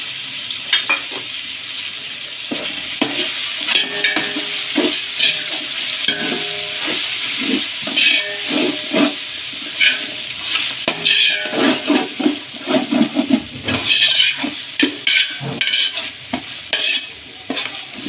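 Fresh mint and coriander leaves sautéing in a pan for chicken biryani: a steady close sizzle with repeated scraping and clinking of a spoon stirring against the pan, and no talk.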